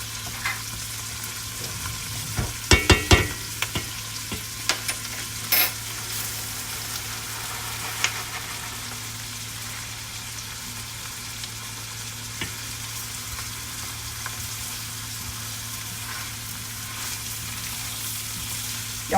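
Vegetables frying in a pan while Spanish rice is being made, giving a steady low sizzle throughout with a few sharp clicks and clatters of utensils early on, no talking.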